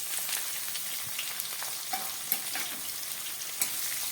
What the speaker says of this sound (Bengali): এবার এর মধ্যে আমি দিয়ে দিচ্ছি কেটে রাখা খানিকটা পেঁয়াজ।